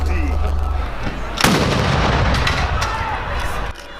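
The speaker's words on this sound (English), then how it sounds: "11 guns salute crowned the minister's journey here on earth." Gun salute cannon fire at a minister's funeral: a loud, sharp boom lands midway, followed by a long rumbling decay and echo. Ambient noise surrounds it outdoors.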